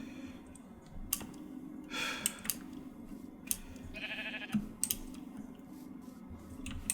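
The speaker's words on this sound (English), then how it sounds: "Ah, there's 2 white sheep." Sheep bleat in the Minecraft video game, a couple of short nasal game bleats among clicky keyboard and mouse taps and soft background noise.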